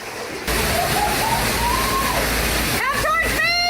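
Rushing cave stream in Crystal Cave, about a foot deep, pouring over the edge into a pit, a loud continuous splashing roar, with a faint voice and whistle-like tones near the end.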